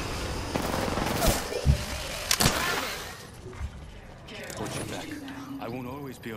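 Gunfire in the battle royale shooter Apex Legends, a few loud close bursts and single shots in the first half, then quieter game sounds as a player talks.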